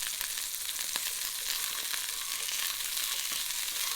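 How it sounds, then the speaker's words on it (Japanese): Steak sizzles steadily in a pan while hot garlic oil is spooned over it, a constant bright crackle with small pops, faint and close, no talking. "このように油をかけてアロゼしながらゆっくりと火を入れていきます。"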